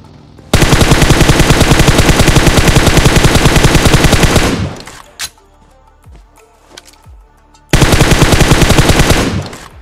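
Rapid automatic gunfire in the mobile battle game BGMI played on a Poco X3 Pro, two long loud sustained bursts separated by a quieter gap with a few scattered shots and clatter.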